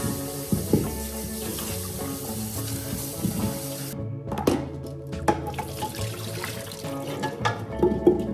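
Running tap water splashes over soup ingredients being rinsed in a kitchen sink, a close continuous flow broken by a brief pause and uneven splashing as the food is handled, with no speech.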